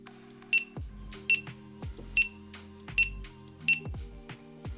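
A GoPro Hero 11 action camera gives short electronic beeps as its mode button is pressed, five evenly spaced chirps over soft clicks and handling, close and clear with no talk.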